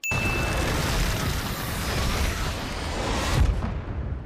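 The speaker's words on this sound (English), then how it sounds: "I guess those bombs were supposed to make this building implode like Poltergeist?" Bombs go off inside a building in an Ant-Man film scene, making a dense, continuous roar of blasts and rumble. It stays loud and full for several seconds before tapering slightly at the end.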